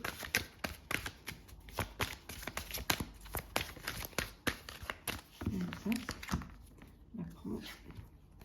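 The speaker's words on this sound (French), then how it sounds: "Alors, on va les remélanger" Oracle cards shuffled by hand in a rapid series of papery slaps and riffles, close and crisp, with a person talking quietly over the later part.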